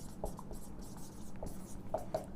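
Pen or marker scratching on paper or a board while a maths proof is written out, with a few light taps and strokes over a quiet background and no talk.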